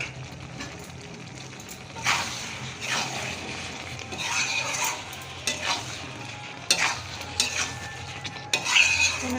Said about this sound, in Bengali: আমি এখানে একটু তেঁতুল জল দিয়ে দিচ্ছি